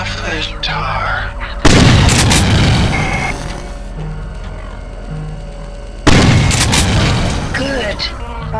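Two loud, sudden booms in System Shock 2 mark an egg being destroyed, each one a sharp blast followed by a decaying rumble over a constant mechanical ambient hum.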